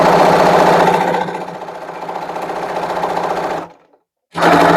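A sewing machine stitches a seam on a toiletries bag, a loud rapid mechanical chatter that slows and speeds up, stops briefly, then starts again, heard alone without talk.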